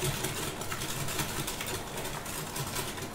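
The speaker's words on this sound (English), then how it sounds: "And just whisk it together to mix it well." Caster sugar being whisked into egg yolks for an orange caramel custard, a steady soft scraping whir that runs without a break at fairly low level and close by, with no talk.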